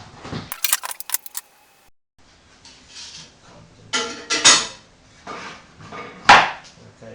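Clamps being loosened and pulled off a freshly glued wooden bandsaw box, giving scattered clicks, knocks and scraping bursts of wood and metal with pauses between them, close by and fairly loud, no talking.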